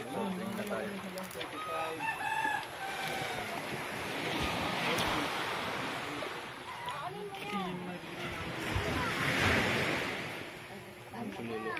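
Strong ocean waves wash steadily in the background while a rooster crows and people talk nearby.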